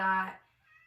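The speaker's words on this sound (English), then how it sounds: "Do you guys hear that? That's my cat." A house cat gives one short meow, a brief tonal cry that fades quickly, leaving near silence.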